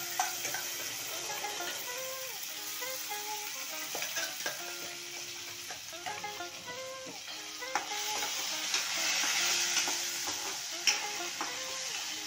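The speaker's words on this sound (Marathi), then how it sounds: "चांगला परतून घ्यायचा हा." Ground masala paste stir-fried in oil for rajma, giving a steady close sizzle with repeated scraping spatula strokes across the pan and no voices.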